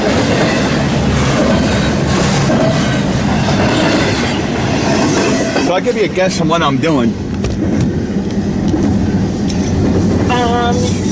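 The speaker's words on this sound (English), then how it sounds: "Yep, I'm recording the train right now" A westbound train passes near Ashland, Nebraska, with a loud, continuous rumble of rolling cars and wheel clatter close by, then squealing wheels over the final seconds, while someone talks over it.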